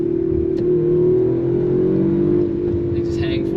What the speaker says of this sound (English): love how the revs hang.